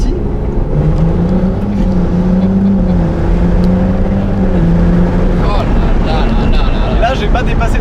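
A Ferrari 296 GTS hybrid with an open roof pulls away at low revs, its engine giving a loud, steady droning hum with rising and falling tones, under constant wind rush while someone talks over it.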